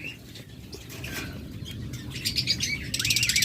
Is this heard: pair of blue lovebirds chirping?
yes